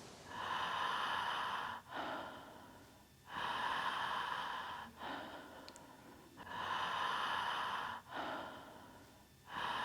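Deep, rhythmic breathing during a Transformational Breath session, with long, strong, close inhales and exhales that repeat in cycles, each one loud and airy, followed by short pauses.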